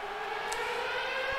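A long, steady siren wail marking the end of the game in the NHL 09 hockey video game, with sustained harmonic tones held throughout at moderate loudness and no talking.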